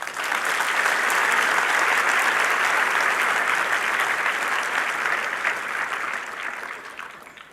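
An audience at a medical college ceremony applauds family and friends, a sustained dense clapping that holds steady before tapering off toward the end.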